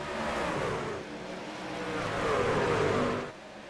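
Race trucks accelerate hard off a restart launch at Richmond Raceway in a Truck Series race, a loud, dense engine roar that swells and holds for several seconds before easing slightly near the end.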